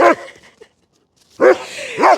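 A dog barks loudly nearby, once and then twice more after a short silence.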